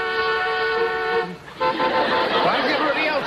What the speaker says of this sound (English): Why is everybody else honking?